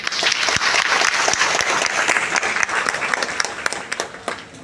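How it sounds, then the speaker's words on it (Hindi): A hall audience breaks into dense, sustained applause at a talk on Ayurvedic products, the clapping loud and steady for several seconds before thinning toward the end. "आप उनके लिए एक बार ताली बजा दो।"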